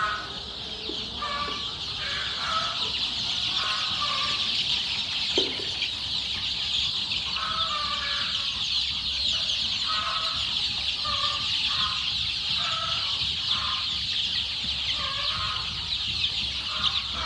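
Steady clucking from hens and soft peeping from chicks about 20 to 25 days old, continuous over a constant hum of background noise.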